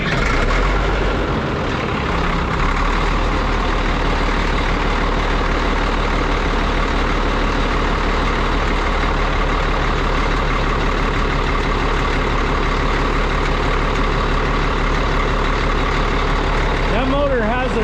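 An old service truck engine that had not run in two years idles, a loud, steady low rumble that continues unbroken close by, with a brief change in tone near the end.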